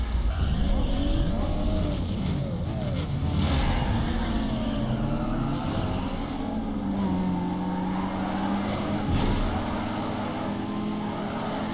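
Racing car from Need for Speed Underground 2 roars continuously with engine revs rising and falling and brief tire skids, steady and fairly loud with no talk over it.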